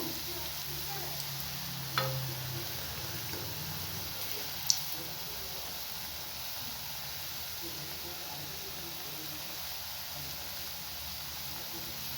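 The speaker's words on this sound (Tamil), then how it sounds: "அடுப்பை குறைச்சி வச்சு வறுத்து எடுத்துக்கோங்க" Banana balls frying in oil over a low flame, a soft, steady sizzle close by with a couple of faint clinks, continuing quietly throughout.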